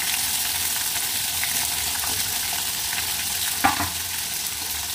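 Green chillies sizzle in hot oil in a pan for a chicken curry, a steady close frying hiss with faint stirring scrapes and one brief clink near the end.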